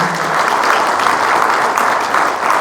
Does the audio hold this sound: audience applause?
yes